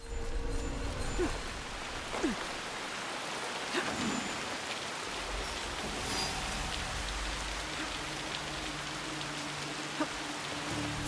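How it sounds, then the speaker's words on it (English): Steady rain falling in the Assassin's Creed Shadows video game, a continuous hiss of drops on surfaces with occasional faint splashes, even and close throughout with no talking. "And it's still raining."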